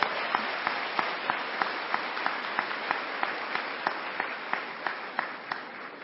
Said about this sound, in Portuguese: vamos aplaudir bem forte, bem forte, bem forte